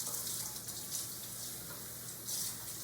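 Warm tap water runs steadily onto a pair of Vans shoes held beneath the faucet, a continuous close splashing hiss with slight surges and no talking.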